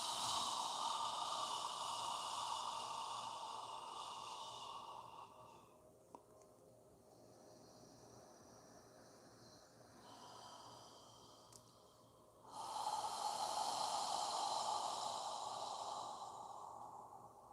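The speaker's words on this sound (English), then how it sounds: "Breathing naturally, no forcing of the air, just inhale and exhale." Slow, natural breathing during a yoga session, soft airy inhales and exhales that swell and fade in long, gentle cycles with quieter pauses between them, close to the microphone and with no talking.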